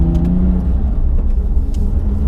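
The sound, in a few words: Porsche 997.2 GT3 RS engine revving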